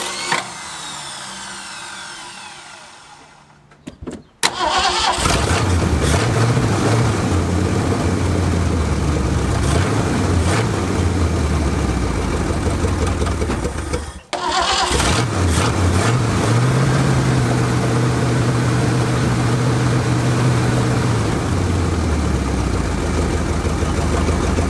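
A Ford Galaxie engine left parked for five years starts after a brief cranking sputter and settles into a loud, steady idle, cutting out once near the middle before firing again and running on with uneven revving.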